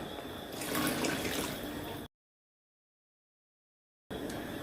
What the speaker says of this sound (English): Then I will add water.